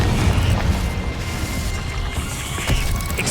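A fiery Confringo spell blast in the Hogwarts Legacy video game, a dense booming burst with a rumbling low end that swells near the end of the short clip, loud and without speech.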